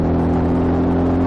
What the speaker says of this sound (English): this trike is doing just a shade under 2000 revs